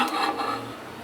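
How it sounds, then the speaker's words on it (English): Garlic and chili sizzle in hot oil in a frying pan, a close, steady hiss with faint scraping and stirring clatter throughout, no voices. "I'll get my frying pan hot, a little oil and garlic in"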